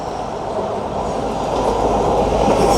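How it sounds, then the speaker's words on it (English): CrossCountry Class 220 diesel unit 220-011, on a Plymouth to Aberdeen service, passes close by at Manors in Newcastle with a loud, steady rumble of wheels and engine that builds slightly toward the end. "it's going to be 220-011 with a cross-country service to Aberdeen from Plymouth"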